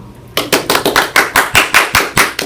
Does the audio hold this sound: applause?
yes